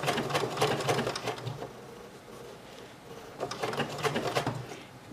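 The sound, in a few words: BERNINA 880 computerized sewing machine stitching a curve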